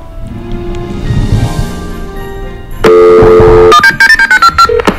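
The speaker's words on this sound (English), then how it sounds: "Hey Google, can you please call Santa, please?" A smart speaker placing a call plays a quick run of loud touch-tone dialing beeps, each brief tone distinct, following a steady dial-tone-like hum.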